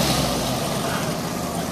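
Saunders's Jeep engine runs steadily at close range, a dense low rumble with broadband noise, continuous and unbroken for the short span with no talk over it.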